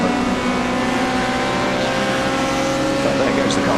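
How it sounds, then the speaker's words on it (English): A touring race car at Donington Park, heading toward Coppice Corner, gives a steady engine drone at moderate distance that holds evenly without a sharp pass-by peak. "But there goes the car towards Coppice Corner now, just through shot."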